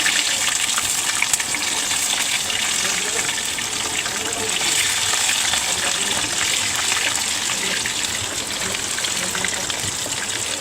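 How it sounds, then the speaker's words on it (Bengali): Sliced potatoes frying in hot oil for kacchi biryani, a loud continuous bubbling hiss that stays even throughout, with a voice faintly present underneath. "তেল গরম হয়ে গেছে, আমি এখন আলুটা ভেজে নিব।"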